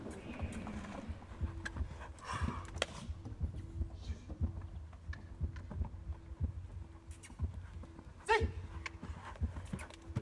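A horse in a street theatre performance at an outdoor festival, soft irregular hoof thuds on pavement at a moderate distance, faint and mixed with low crowd ambience and occasional small knocks.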